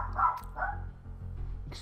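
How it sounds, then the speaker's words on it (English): A dog barks a few times in the background, muffled and fairly distant, with a low steady hum underneath. "The dog is barking."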